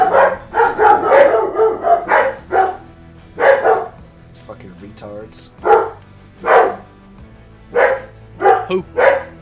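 Dogs bark loudly in repeated bursts of sharp woofs and yips, with uneven gaps between clusters, while people talk over them during a Farming Simulator 25 stream.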